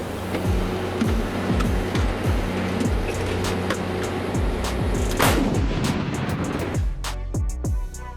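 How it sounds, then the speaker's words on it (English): Caesar self-propelled artillery unit firing during Danish military training, with a loud, sharp blast and a series of heavy impacts over a constant rumbling roar. "we can see how the Caesar self-propelled artillery unit works"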